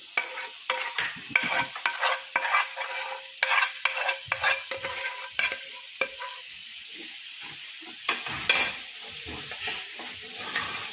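A spoon stirs a thick mixture of coconut, sugar and reduced milk in a pan over low heat, scraping in repeated close strokes with a soft sizzle, no voices.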